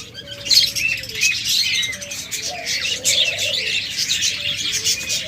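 Pet budgerigars, cockatiels and lovebirds at a bird sale, a busy chorus of high chirps, tweets and warbling calls overlapping continuously, with a few lower coos mixed in.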